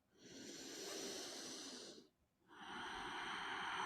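Deep, airy breathing during a yoga forward bend: one long hissing exhalation, a brief pause, then another long breath. Close and soft, with no talking.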